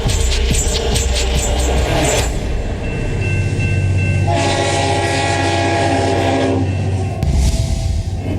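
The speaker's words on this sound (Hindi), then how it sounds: "अब सूरज की रोशनी से दौड़ेगी भारतीय रेल।" An Indian train runs on its tracks with a loud steady rumble and rattle close by, a sustained horn sounding over it partway through.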